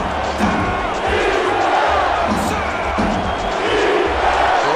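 A football stadium crowd at a night game sends up a steady, loud roar of cheering and shouting that holds throughout with no break.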